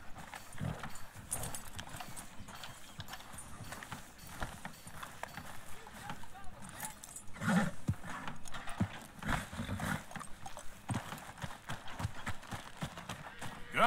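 Horse hooves clop at an irregular pace in Red Dead Redemption 2, a moderate rhythmic patter with a brief whinny partway through, while characters talk over it.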